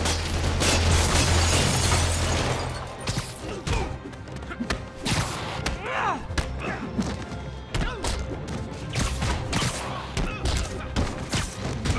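Gunfire from thugs shooting at Spider-Man in Spider-Man Remastered, loud rapid bursts and thuds at the start, then scattered shots and impacts during the fight.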